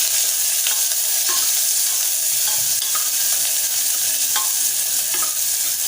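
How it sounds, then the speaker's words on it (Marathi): Finely chopped onion sautés in oil for sprouted chana usal, giving a loud, continuous close-range sizzle broken by a few light scrapes of stirring. No one speaks. "आता मीडियम आकाराचा कांदा जो बारीक चिरून घेतला तो घालूया छान परतून घेऊया"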